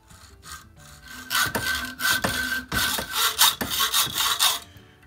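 Harbor Freight mini metal lathe facing the end of a metal pen body, a scraping, rasping cut in repeated bursts with a steady motor whine underneath, close and fairly loud.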